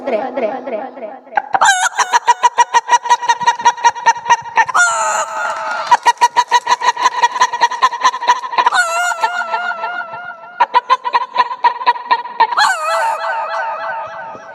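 A voice imitates a hen clucking and crowing in loud, repeated bursts of rhythmic pulses with shifting pitch, close and alone without ordinary talk.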